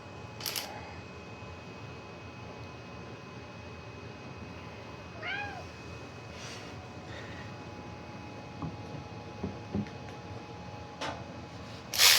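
In a quiet motorcycle workshop where brake calipers are being rebuilt on a 1982 Yamaha Maxim 750, a cat gives a single short meow midway, set among sparse ticks and clicks and a low background hum.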